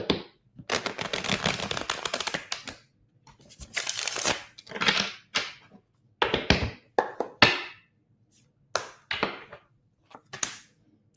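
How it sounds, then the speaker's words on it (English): Tarot cards are shuffled in bursts of riffling and slapping, dry papery rattles coming in irregular clusters separated by short pauses, close and fairly loud with no talking. "One more shuffle."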